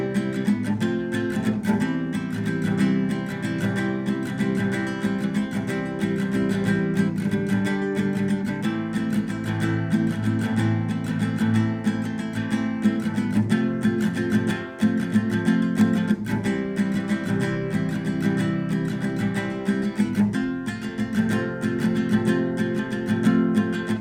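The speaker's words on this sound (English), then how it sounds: "So in total, the verse/interlude part will sound like this." Guitar playing the verse chords of a song, strummed steadily and continuously at close range with a relaxed repeating rhythm, sustained throughout with no voice.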